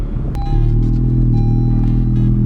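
Car engine, a new 440, rumbling low and steady as it drives into a shop, close and loud with a brief clatter near the start.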